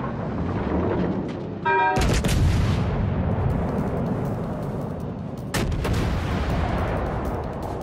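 Naval artillery fire in the video game World of Warships: Legends, with heavy gun blasts booming loudly at about two seconds and again near five and a half seconds over a dense, rumbling game soundscape.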